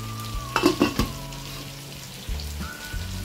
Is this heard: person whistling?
no